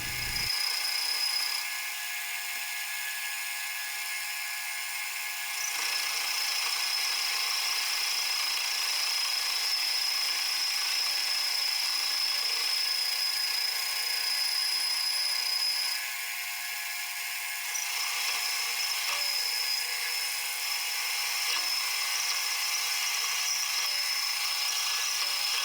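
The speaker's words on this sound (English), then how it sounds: "So I switched to my boring bar and began machining the inside of the" A lathe boring bar machining the inside of a hex nut ring, a continuous high metallic whine and hiss that holds steady, dips briefly twice, then resumes.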